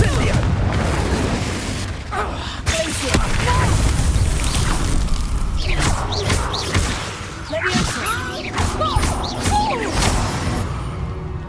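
Incendio fire spell in Hogwarts Legacy, a crackling, roaring burst of flame with bangs and whooshes layered over dense combat effects, sustained and loud throughout.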